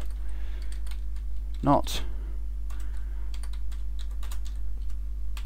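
Keystrokes on a computer keyboard while entering PHP code, a steady run of light clicks through the whole stretch with one louder burst of contact near the middle; close and fairly quiet, with a voice speaking briefly.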